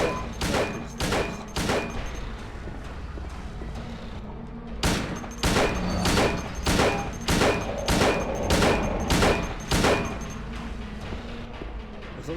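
In Silent Hill 2, loud, evenly spaced gunshots fire in two strings separated by a brief pause, each report sharp and close with a short echoing decay, about a dozen in all.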